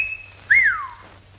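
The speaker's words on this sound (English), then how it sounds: "the emission of a whistling sound, vulgarly known as the call of the wolf, perpetrated by puckering the lips and expelling the sound thusly" A single wolf whistle made through puckered lips, a sharp rising then falling tone, loud and close with nothing else sounding.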